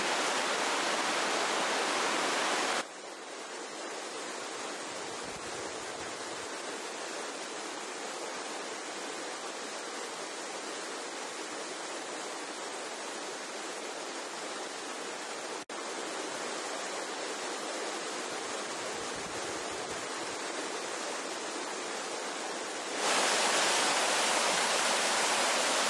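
A mountain waterfall swollen with snow melt in Wallowa County, Oregon, roaring as a dense, steady broadband rush close by that holds for the whole stretch and swells louder near the end, with no voices.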